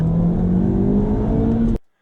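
A 1976 first-generation Honda Civic driving, its small engine droning steadily and slightly rising in pitch, close and loud for under two seconds before cutting off abruptly, with no voices.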